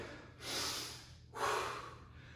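During a weightlifting workout, someone breathes heavily: two long, forceful breaths, close and moderately loud, over a low steady background hum, with no speech.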